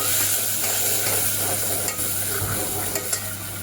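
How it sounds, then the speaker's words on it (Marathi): Ground garlic and coriander paste fries in hot oil for a dal tempering, giving a steady, close sizzle with light stirring scrapes throughout and no talking. "तेलामध्ये वाटलेलं वाटण टाकलं आणि हे चांगलं खमंग आपल्याला भाजून घ्यायचं आहे"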